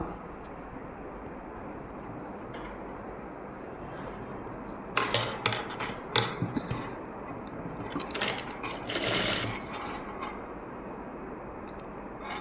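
A sewing machine puts a straight stitch along the edge of baby dress fabric, two short bursts of rattling, clicking machine motion separated by a pause, over a quiet steady room hum.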